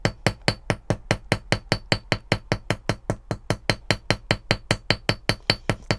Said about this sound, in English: Where is my little texture hammer? Let's get some texture here on this side.